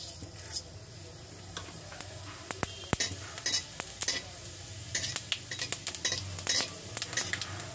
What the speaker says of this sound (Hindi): अब डालेंगे जीरा,